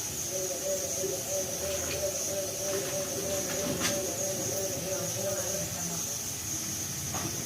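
Raw plantain frying in a pan gives a continuous bright hiss and sizzle with a steady whine above it and occasional sharp crackles, close and even in level throughout.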